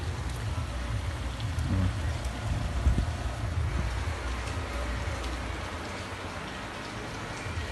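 Steady rain falls throughout, a dense continuous patter with some low rumbling wind noise, no voices.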